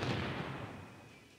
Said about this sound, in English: That was one that explosion was loud